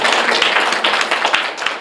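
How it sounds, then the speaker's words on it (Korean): A church congregation applauding to give glory to God, a steady, fairly loud wash of many hands clapping with no talking, tapering slightly at the end. "하나님께 영광의 박수를 하나님 감사합니다."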